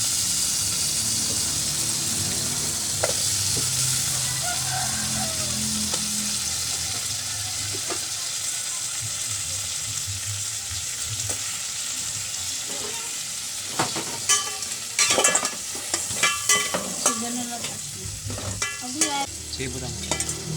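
Crabs and lobster fry with garlic in oil and margarine, a loud continuous sizzle with clacking shells and spoon scrapes as the pan is stirred, close and steady without talk.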